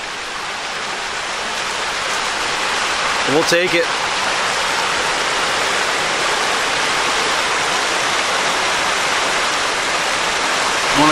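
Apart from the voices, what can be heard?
small waterfall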